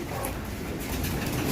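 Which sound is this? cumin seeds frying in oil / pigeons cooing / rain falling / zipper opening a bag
pigeons cooing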